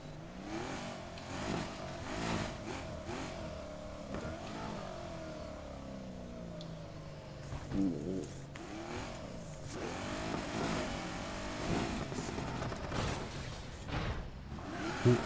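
Car engine revving and accelerating in the racing game Need for Speed Heat, with rising and falling pitch sweeps through gear changes, loud and continuous with rushing whooshes, no talk.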